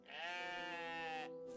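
A sheep bleats in the video game OneShot, one long wavering cry held for over a second, clear and prominent with nothing else over it.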